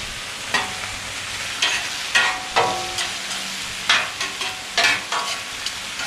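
Sauerkraut warms on a Blackstone griddle with a gentle sizzle, broken by several sharp scraping taps of a spatula on the flat steel, close and without speech.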